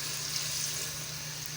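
Water pours steadily into a cooking pot of fried nihari masala for beef nihari, making a continuous rushing, hissing stream with no talk.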